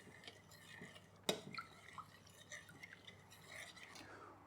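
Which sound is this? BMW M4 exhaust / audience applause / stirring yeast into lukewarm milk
stirring yeast into lukewarm milk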